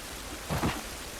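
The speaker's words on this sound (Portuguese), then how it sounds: "Essa chuva não vai nos ajudar." Steady rain in The Last of Us video game, a soft continuous wash with a brief louder swell midway through the short stretch, no voices.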